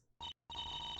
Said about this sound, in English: Hang on, that's my phone.